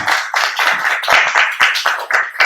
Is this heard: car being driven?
no